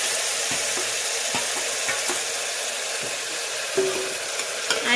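Gravy for a drumstick curry stirred in a hot pan with mustard seeds and cumin, a steady bright sizzle with scattered clicks and scrapes of the spoon, close and alone without talk.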